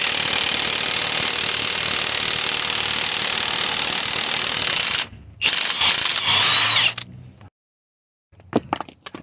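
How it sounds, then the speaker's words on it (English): Ratchet working loose the axle nut on a Toyota Camry 2.4L, a loud, dense continuous clicking for about five seconds, then short bursts broken by silence. "I'm gonna take this axle nut out."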